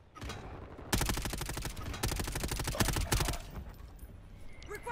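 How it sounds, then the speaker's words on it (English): Mortar strike in the Warzone video game: a series of rapid, rattling blasts repeating in dense bursts for several seconds, loud and close, then fading to quieter scattered sounds. "Friendly mortar strike inbound."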